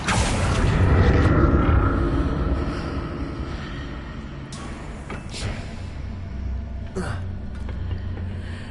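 A Confringo spell explosion in Hogwarts Legacy, a loud booming blast that rumbles and fades over a few seconds, followed by sharper impact cracks and debris sounds; a voice speaks over parts of it.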